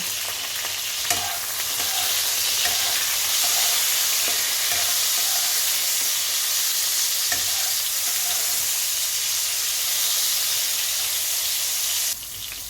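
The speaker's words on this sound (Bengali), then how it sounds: "বেগুনটা ভালো করে ভাজা হয়ে গিয়েছে" Eggplant frying in hot oil in a pan, a loud, dense, continuous sizzle with a few faint stirring clatters, close up and steady until it drops away at the very end.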